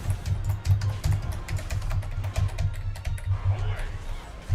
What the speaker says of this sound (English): your keyboard pounding is very loud